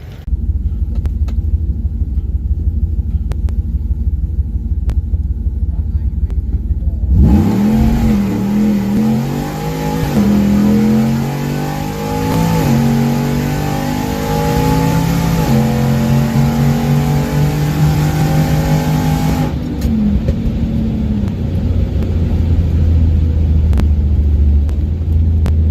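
A supercharged Ford F-150 pickup at a drag race revs hard and accelerates away, its loud engine note climbing through the gears for about twelve seconds before dropping back to a steady rumbling idle.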